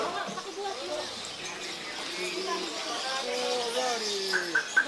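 Birds coo and chirp in the background, partly buried under people talking nearby, with a few brighter tweets near the end.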